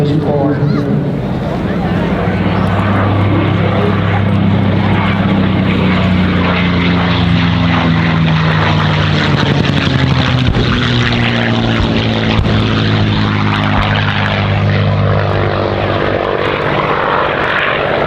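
A Merlin-engined WWII propeller warplane drones loudly overhead at an airshow, its deep engine roar steady and sweeping in pitch as it passes close by for the whole stretch.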